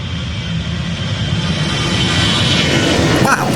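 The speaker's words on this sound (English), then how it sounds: "the EasyJet flight off to London" An EasyJet airliner bound for London takes off from Gibraltar airport, its engines a broad steady roar that swells gradually and holds strong, heard from outdoors at some distance.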